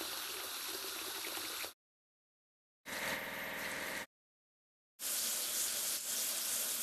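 Water splashing while a tractor is washed in a children's transport game: three steady bursts of gushing spray, each about a second or two long, separated by silent gaps, loud and close with no talk.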